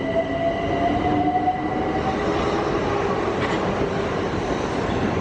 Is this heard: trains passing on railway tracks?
yes